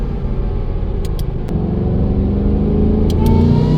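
A supercharged S650 Mustang V8 runs on a dyno in sixth gear, its deep, steady engine drone slowly climbing in pitch as revs build, loud and close with no talking.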